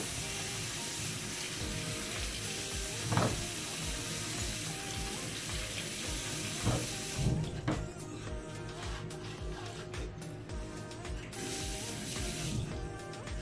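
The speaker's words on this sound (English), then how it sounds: "I'm going to give all these a good wash." Peppers rinsed under a running kitchen tap, a steady splashing stream of water with occasional louder knocks and clatters as they are handled in the sink.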